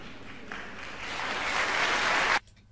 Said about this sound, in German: Ja, der Applaus ist dann, glaube ich,